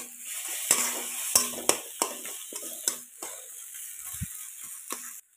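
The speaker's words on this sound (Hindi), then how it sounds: "अब हम यहाँ पे नमक डाल देंगे और इसको कच्चे से मिला देंगे" Salted eggplant bharta is stirred in a pan, with a spatula clacking and scraping in uneven bursts over a soft continuous sizzle before the sound cuts off.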